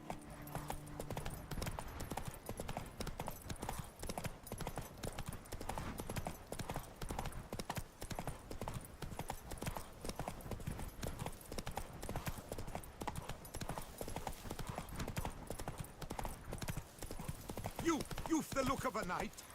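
Roach, a horse in The Witcher 3 video game, gallops in a steady, fast clip-clop of hooves that runs throughout, close and fairly loud over a continuous game soundscape.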